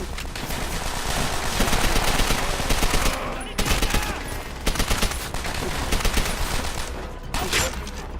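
Heavy World War II battle gunfire in World at War, dense machine-gun bursts and rifle shots overlapping with short pauses, loud and continuous, with shouting voices in the mix.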